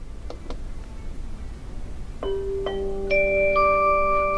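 EZVIZ electronic smart chime playing its sound 1 tone: a few soft ticks, then a rising series of clear sustained electronic ding notes that layer and ring on, close and moderately loud with no talking.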